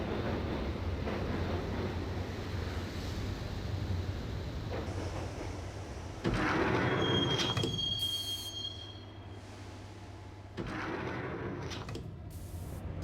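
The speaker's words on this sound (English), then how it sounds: "the train doors had already shut behind me, and I was in for the ride" A subway train rides in the Max Payne video game, rumbling steadily on the rails, then a loud surge of wheel noise with a high screeching squeal, a few sharp clanks and shifts in the roar, close and alone without talk.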